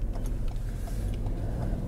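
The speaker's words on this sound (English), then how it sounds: "There's a car coming." A car approaches and passes on a road in Watford, heard from inside another vehicle as a steady low engine rumble and tyre hum with no talk.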